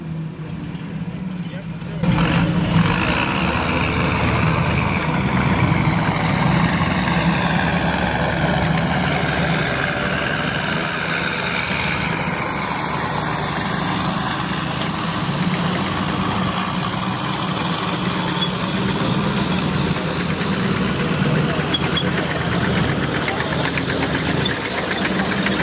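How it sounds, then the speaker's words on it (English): A WWII Stuart tank engine idles close by, a loud, steady, rumbling drone with a knocking, diesel-like clatter running throughout after a sudden rise at the start. "it kind of sounds like a Cummins turbo diesel"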